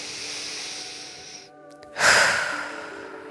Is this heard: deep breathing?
yes